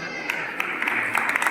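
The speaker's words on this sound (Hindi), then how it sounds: "जोरदार तालियों के साथ स्वागत किया" Audience clapping greets an official called up to the stage at a sanitation workers' gathering forming a new committee in Kathua, a steady dense patter of many hands with sharper individual claps, moderately loud and continuous, with a voice faintly underneath.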